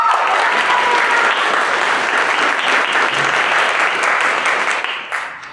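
A commencement crowd at a university physics convocation applauds and cheers loudly for a graduate, dense steady clapping filling the whole stretch before tapering slightly at the end.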